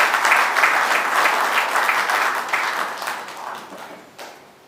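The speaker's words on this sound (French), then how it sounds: "que l'assistance puisse l'encourager par des applaudissements nourris." An audience at a book launch claps steadily in a dense, close burst of applause that gradually thins and fades out.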